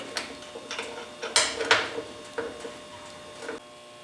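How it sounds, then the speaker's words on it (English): Metal clanks and ticks while tightening a back bolt on a South Bend shaper during reassembly: a series of irregular, close knocks and tool-on-metal taps, with a brief louder cluster in the middle, no talking. "And now to tighten that dreaded back bolt."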